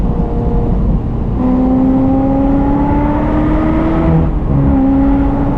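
A Ferrari 355F1, almost 30 years old, downshifting and decelerating, its engine note close and loud with clear rising and falling harmonic tones and a gear change near the middle.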